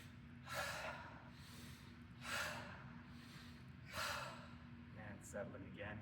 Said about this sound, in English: All right, 3 big breaths.